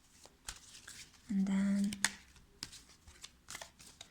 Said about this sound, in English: I'm shuffling on camera because I want this process to be transparent